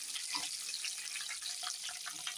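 Garlic and curry leaves sautéing in a pan for vatha kuzhambu, a soft, continuous close-up hiss of sizzling oil lasting a couple of seconds without speech.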